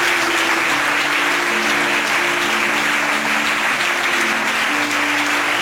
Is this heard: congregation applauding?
yes